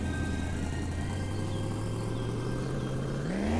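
A car with a loud exhaust in My Winter Car drones steadily at close range, its engine note holding level and then climbing sharply in pitch as it speeds up at the end.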